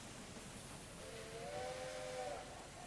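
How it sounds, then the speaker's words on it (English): A steam train whistle in Railway Empire 2, a Boston and Albany Railroad locomotive, gives one steady mid-pitched blast of about a second and a half over a soft hiss and low rumble. "Our brand new train right there"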